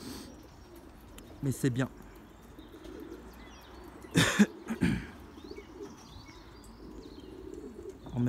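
Pigeons in a loft coo softly and continuously in the background while someone speaks briefly in French, with low murmuring calls and occasional rustles nearby.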